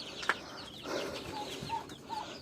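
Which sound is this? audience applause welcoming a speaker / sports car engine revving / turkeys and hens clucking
turkeys and hens clucking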